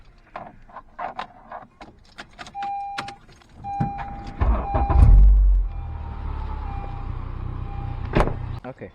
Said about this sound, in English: Just gonna turn the car back on and let it run.